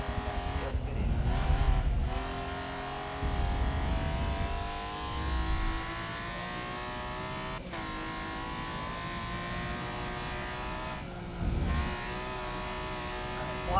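A race car in the Forza 7 video game drives hard down a track straightaway, its engine whining steadily with brief shifts and dips in pitch, loud and continuous throughout.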